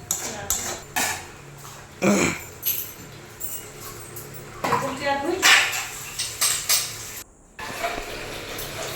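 Dishes and metal utensils are washed at home, with sharp clanks and clatters in irregular bursts close by, alongside people talking.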